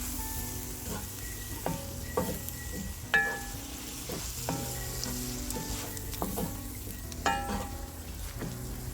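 Prawns sizzling in a pan of Spanish seafood paella, a steady close frying hiss punctuated by spoon clinks and stirring knocks against the pan.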